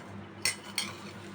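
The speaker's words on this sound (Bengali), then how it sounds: "আমাদের এখানে উপকরণগুলো আমরা এখানে মিক্স করে নিব" A spoon scrapes and clinks twice against a bowl as salt and onions are mixed with other ingredients, two quick bright knocks over a low steady background hum.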